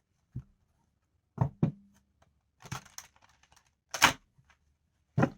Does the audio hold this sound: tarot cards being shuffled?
yes